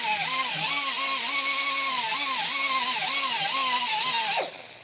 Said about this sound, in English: just take a die grinder and a cutoff wheel and kind of come in here from the side